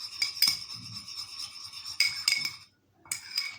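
Utensil clinks and scrapes against a bowl while coconut oil is stirred into a homemade dandruff remedy, a few close, light taps and rubs in bursts with brief pauses, no talking.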